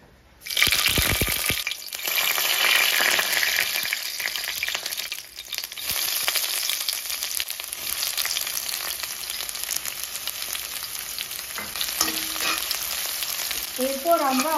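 Onion, green chilli and bay leaf frying in hot mustard oil for aloo posto, a loud close sizzle that starts abruptly and crackles steadily, with faint stirring, a brief dip in the middle, and a short voice at the end.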